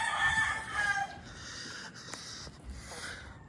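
A rooster crows in the distance with a few faint chicken clucks, set against steady outdoor background noise.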